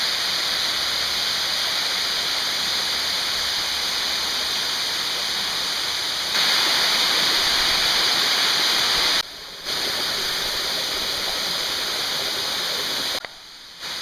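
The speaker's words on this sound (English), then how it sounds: "water's pouring from over the top of it, but there's also water pouring from the back of it" Steady, loud rush of water pouring down at Sandiaoling Waterfalls, a continuous broadband roar with a brief dip partway through and near the end.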